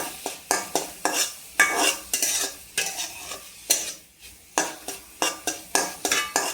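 Paneer bhurji sautéed in a pan, with brisk, rhythmic stirring of a spoon scraping and clinking against the metal over a low sizzle, close up with no talking.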